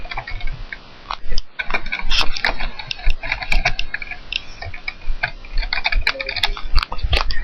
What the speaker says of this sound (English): I can type in text here